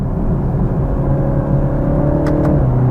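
A 2021 BMW 330i engine drones loudly from inside the cabin, pitch rising and shifting as it accelerates through near-instant gear changes between 3rd and 4th.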